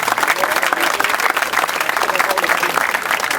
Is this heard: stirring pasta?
no